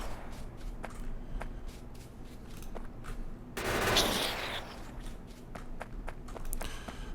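Gun turrets loaded with yellow ammunition fire at biters in Factorio, producing rapid, fairly faint rattling bursts over steady game noise, with a denser swell of fire near the middle.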